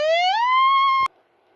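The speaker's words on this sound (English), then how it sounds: "Then the air raid siren on top of the launch cranked up" An air raid siren mounted on top of a launch cranks up: a single loud wail that rises quickly to a steady high tone, holds for about a second, then cuts off abruptly.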